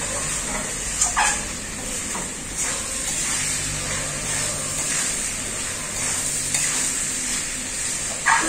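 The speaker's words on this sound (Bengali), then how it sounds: "এই মশলার সাথে খুব ভালো করে চালটা কষিয়ে নেব" Washed Gobindobhog rice is stir-fried with spices in a pan, making a steady sizzle broken by repeated scraping strokes of a spoon against the pan.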